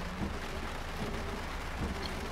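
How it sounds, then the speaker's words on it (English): Heavy rain hisses in a steady, dense wash in the racing game Project CARS, with a low rumble beneath and faint scattered tones, continuous and fairly loud throughout. "Look at that rain and everything bouncing off"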